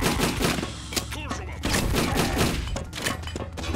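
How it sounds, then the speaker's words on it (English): Grenades launched and exploding in the boomer shooter Doombringer, a run of heavy thumping blasts and gunfire booms close and loud, dense rapid impacts filling the whole stretch with a voice briefly heard amid the din. "Yep, that's definitely grenades being launched"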